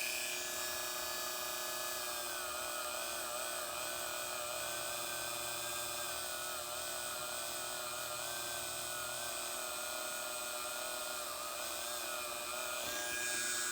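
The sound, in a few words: Dremel rotary tool with brass brush cleaning lead battery terminal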